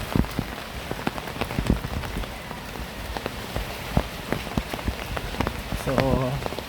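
Steady rain patters on surfaces with scattered sharp drips and splashes throughout, a constant close hiss with no talking.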